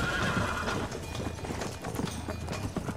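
Horse hooves gallop in steady rapid clip-clop with an occasional whinny, in the Red Dead Redemption video game on PS3, loud and continuous throughout.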